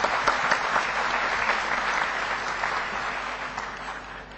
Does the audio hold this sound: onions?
no